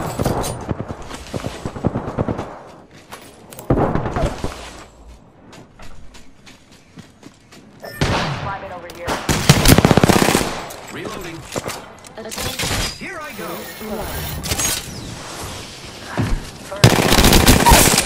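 Rapid automatic gunfire in the video game Apex Legends, loud close bursts of machine-gun fire coming in several clusters separated by quieter gaps, with some speech mixed in.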